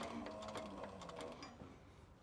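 Leather sewing machine stitching a lap-stitched seam with an edge foot, giving a fast, steady mechanical chatter of rapid needle strokes, close and fairly loud, with no talk.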